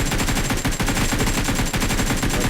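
Rapid automatic gunfire from the PUBG Mobile battle game rattles on in dense, sustained bursts with only a couple of momentary breaks, loud and close, with no talking over it.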